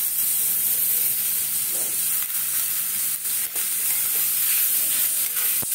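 Grated potato goes into a hot pan for a veg paneer roll, giving a steady, loud sizzling hiss throughout, with a few brief scrapes and no talking.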